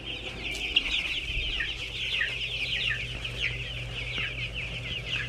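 Two-week-old farm chickens, just feathering out, cluck and cheep steadily in a brooder house, a dense chorus of many birds close by with a low hum underneath and no talking.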